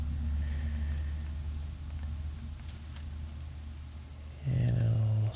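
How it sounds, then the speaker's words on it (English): Morning road traffic passing outside, a low steady rumble of cars in the background that swells near the end as a vehicle goes by close, with no voices. "some traffic in the morning here"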